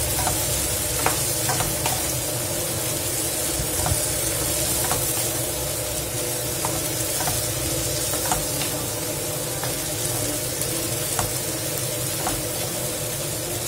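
Chili flakes and spices sautéing in a hot pan for a Black Sea-style Turkish bean dish (fasulye diblesi), a steady close sizzle broken by light scraping and tapping of stirring, with no talk.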